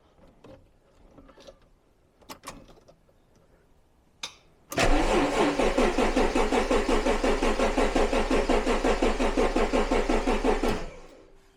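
A Jaguar car's starter cranks the engine in a loud, rapid rhythmic churn for about six seconds without it catching, following a few quiet clicks and knocks.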